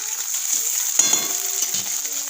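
Browned onions with ginger-garlic paste frying in hot oil for a Bengali bhetki fish dish, a steady close sizzle with faint stirring scrapes and no talk.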